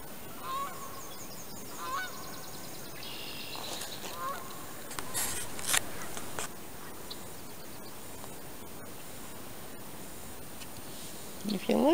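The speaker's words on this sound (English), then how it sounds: "There's geese flying off there now." Geese honk as they take flight over a wetland in a conservation area, several faint-to-moderate honks and wing flurries at a distance over a quiet outdoor background.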